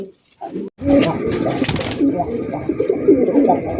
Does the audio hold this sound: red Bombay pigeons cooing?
yes